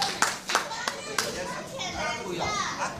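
Children clap their hands in a few sharp, scattered bursts amid lively kids' chatter and playful shouting in a busy indoor setting.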